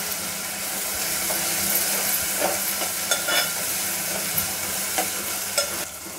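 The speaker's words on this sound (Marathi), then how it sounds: "छानपैकी आपण याला परतून घेऊया।" Ginger-garlic paste sautés in a pan with a continuous sizzle, broken by intermittent scraping stirs and soft taps of a spoon, close and fairly loud.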